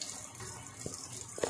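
Hot noodle water from a pan of Samyang Korean spicy noodles is poured into a kitchen sink with the tap running, a low watery rush ending in a brief louder gush of splashing.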